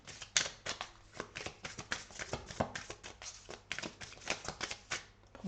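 Tarot cards shuffled, drawn and laid down on a table in a quick run of soft, dry slaps and flicks, close and steady with no talk.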